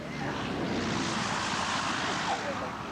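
A light plane flies in to land at a small municipal airport during a 1987 aviation expo, its engine a steady, fairly loud drone under wind throughout.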